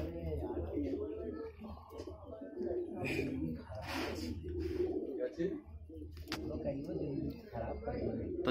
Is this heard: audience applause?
no